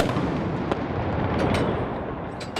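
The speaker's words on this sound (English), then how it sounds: "Gun number two, fire!" Ceremonial cannon salute at a presidential inauguration in Rwanda, heard as a continuous loud, rumbling blast wash with a few sharp cracks standing out, booming gunfire echoing across an open outdoor setting.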